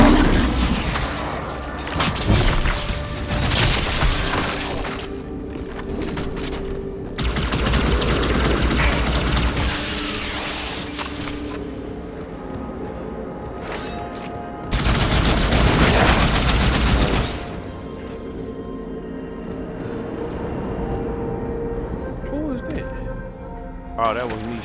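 Repeated bursts of gunfire from a player's weapon in Halo 2 multiplayer, loud rapid volleys in several clusters with explosive booms, over dense game noise and occasional talk.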